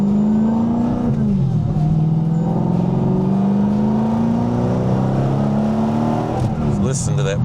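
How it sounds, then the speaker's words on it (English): A manual-swapped supercharged Mercedes C63 AMG with a single-mass flywheel revs hard through gear changes, engine pitch climbing and dropping with each shift, loud and close, with a brief bark near the end. "Listen to that bark with each shift."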